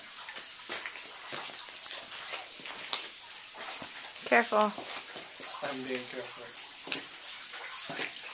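Steady rushing water in a cave fills the space with a constant hiss, while people talk briefly over it and a few faint squeaky tones surface.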